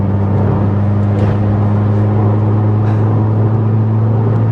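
A hot hatch engine holding a steady, loud drone in third gear on a country road, with deep, constant mechanical hum and road roar, no speech.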